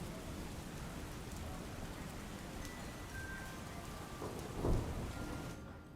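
Heavy monsoon rain falls in Dahod, Gujarat, a dense, unbroken roar of downpour with one deeper thump of rumble near the end and no voices.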